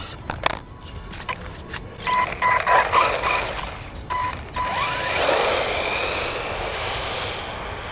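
An Arrma Typhon or Granite Grom RC car revs its electric motor to full throttle, opening with brief electronic beeps and short bursts before a rising whine sweeps up and holds, close and fairly loud, with no talk.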